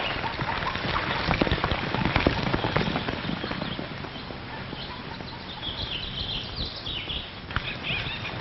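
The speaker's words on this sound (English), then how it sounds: "That could be the horse that outran us." A horse on a roundup trail, with a neigh and clip-clop hooves over a steady rain-like hiss, fairly loud at first and then fading into softer background noise.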